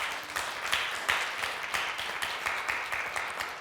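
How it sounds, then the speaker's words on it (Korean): A church congregation applauding during a Sunday sermon, a moderate, even patter of many hands clapping together, fairly distant and continuous, with no talking over it. "하나님께 영광의 박수 올려드립시다"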